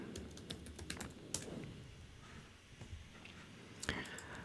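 Fast keyboard typing on a computer, a faint, close patter of irregular key clicks over a soft background hiss.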